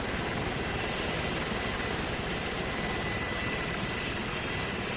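A Black Hawk helicopter lifting off in a video game, a steady loud rotor and engine drone filling the whole stretch with no let-up and no voices.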